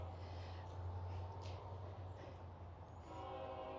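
A distant train passing by a cemetery in Columbus, Georgia, a low steady rumble with faint horn-like tones, heard far off and quiet.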